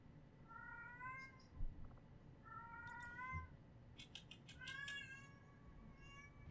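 A cat meows repeatedly, several drawn-out, tonal calls in quick succession with short gaps, fairly close and clear over a quiet room background.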